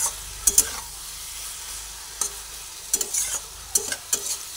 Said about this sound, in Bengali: ভাজা মশলাটা দেওয়ার পরে ভাজা মশলাটা পুরোটা সবজির মধ্যে মিশিয়ে দিচ্ছি। ভালোভাবে নাড়াচাড়া করে দিচ্ছি।